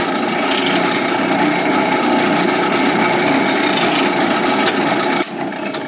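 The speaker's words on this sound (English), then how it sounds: "hold it there firmly while I turn on the drill press" A drill press bores into a wooden Stratocaster guitar neck with a loud, steady grinding whir that holds for several seconds, then drops off abruptly near the end.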